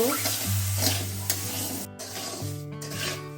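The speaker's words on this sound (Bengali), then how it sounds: "একটু নাড়তে হবে না হলে লেগে যাবে" Sugar and vinegar for amla pickle are stirred in a hot pan, a spoon rubbing and scraping steadily against the metal over a soft sizzle, close and continuous.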